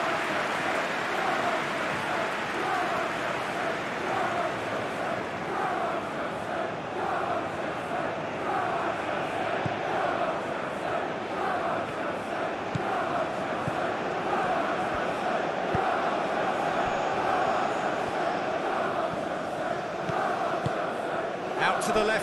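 Stadium crowd noise from the PES 21 football game during Qarabag vs Chelsea, a continuous distant roar and murmur of spectators filling the background under occasional commentary.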